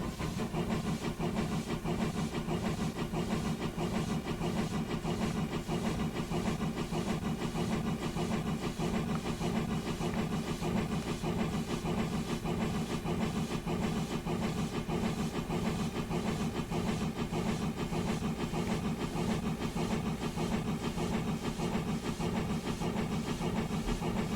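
A Hudswell Clarke contractors' steam tank locomotive in Train Simulator 2021 chuffs and rumbles steadily, a continuous, even mechanical drone with a fast rhythmic pulse throughout and no voices.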